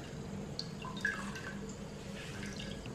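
Water drips faintly from a cloth of homemade paneer being squeezed in a kitchen, a quiet scatter of small splashes over a low hiss.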